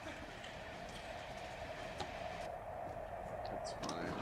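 A passenger train rides along the rails with a steady, low rumbling roll and a faint mechanical hum, continuous throughout with a few light knocks and soft voices in the background.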